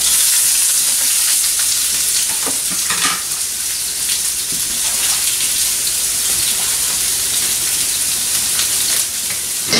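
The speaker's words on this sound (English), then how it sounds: "We're just going to saute these down, let them get nice and soft." Chopped vegetables sizzle in two tablespoons of olive oil in a pan, a loud, steady hiss and crackle close by, with occasional stirring scrapes breaking through.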